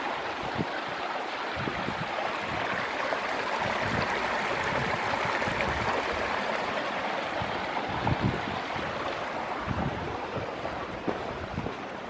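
Mill Creek, a stream in French Creek State Park, flows steadily through a spring woodland with a constant broad rushing wash and some wind buffeting the microphone, no voices over it.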